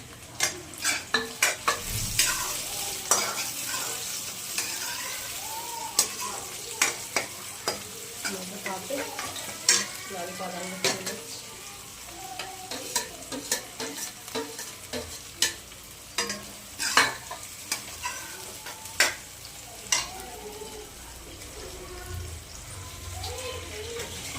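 Onions being fried and stirred in a pan for poha, with steady sizzling broken by repeated scraping and clattering stir strokes close by throughout, under faint background voices.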